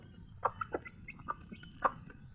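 Several short clucks from chickens at moderate distance, scattered irregularly over a low background murmur.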